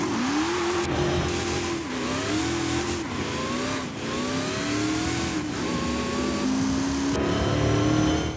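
A Hot Wheels Twin Mill in Forza Horizon 5 revs loudly and continuously, its engine note climbing and dropping through repeated throttle blips and gear shifts, with a brief tire squeal and no talking.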